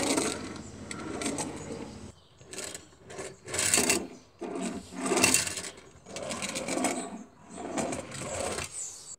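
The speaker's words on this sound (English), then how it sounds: "I used a couple of wagons, just ran them across the tracks back and forth several times." A couple of model railway wagons are pushed back and forth across track on a fold-up drawbridge section. Each pass makes a close, rattly rolling rumble, several passes in a row with brief gaps between them.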